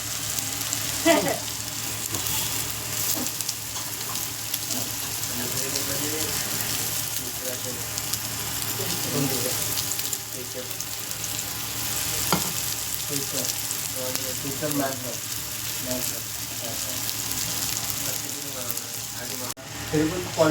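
Whole pomfret fish frying on a large pan, giving a steady crackling sizzle throughout with occasional stirring and scraping, close and fairly loud, while voices talk intermittently over it.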